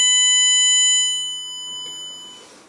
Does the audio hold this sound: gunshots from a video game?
no